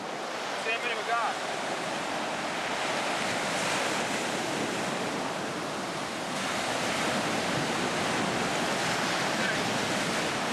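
Ocean surf washes continuously onto a beach, a broad roaring hiss with swelling wave surges and some wind buffeting the microphone, heard close and fairly loud without speech.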